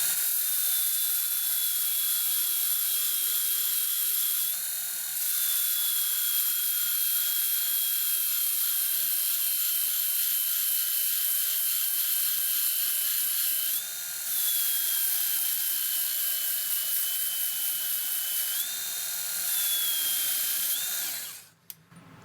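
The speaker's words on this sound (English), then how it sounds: "We'll see what we can do, but you'll hear the motor load up." A Milwaukee M12 FUEL 1/2 x 18 inch bandfile 2482-20 whines steadily and loudly for about twenty seconds, its pitch dipping briefly several times as the motor bogs under heavy pressure, then cutting off at the end.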